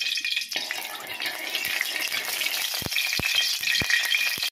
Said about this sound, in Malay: Lepas tu kita tumis. Tumis-tumis saja, tak payah lama.